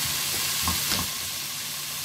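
Sizzling pan of adobong pusit ingredients, including tomato, being stirred, a continuous close frying hiss broken by a couple of short scraping stirs around the pan.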